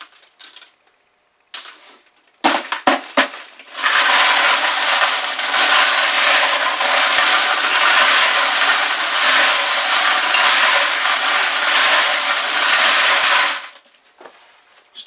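Stainless steel pins and brass casings rattle and jingle continuously in a wet tumbler, a bright dense metallic shimmer lasting about ten seconds after a few clanks, then stopping abruptly.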